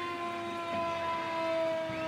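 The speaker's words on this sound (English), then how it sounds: "I didn't know that tractors had fire truck sirens" Fire truck siren fitted to a tractor in the Dallas Christmas Parade, sustained overlapping wailing tones heard from a moderate distance, steady and unbroken, with no speech over it.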